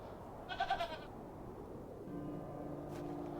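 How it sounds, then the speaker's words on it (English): A goat in The Excavation of Hob's Barrow, on a farm beside a tree, lets out a short wavering bleat, followed by a quiet low ambient drone. "we might die to this goat, guys"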